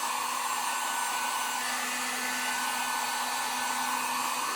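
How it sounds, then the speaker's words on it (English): A steady, loud blowing roar of a heat gun shrinking shrink wrap runs without a break, a constant airy hiss with a low hum beneath it. "I'm going to go ahead and shrink wrap this lot."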